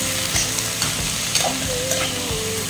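Chicken pieces just added to a hot pan for chicken in tomatoes, sizzling loudly and close with repeated stirring clatter over a short stretch.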